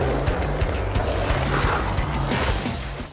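Skateboard wheels rolling and drifting on a road, a loud continuous gritty roar with a rhythmic low rumble that fades slightly at the end, no talking.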